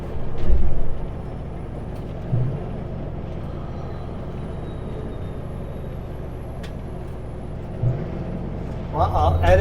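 A truck's air brakes hiss and chuff during a brake check, sharp bursts over a steady engine rumble in the cab, with a person speaking over it.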